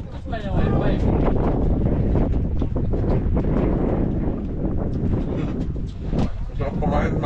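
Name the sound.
wind blowing on a boat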